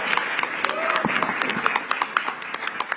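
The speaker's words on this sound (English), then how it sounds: "big round of applause for our jury member Ramesh Sippy" Audience at the Indian of the Year awards ceremony applauds, with scattered individual claps standing out sharply over a softer wash of clapping while someone speaks briefly underneath.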